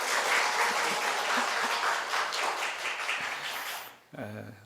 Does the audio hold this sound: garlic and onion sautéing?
no